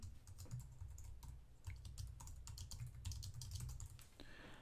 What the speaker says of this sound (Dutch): Je kan ook typen.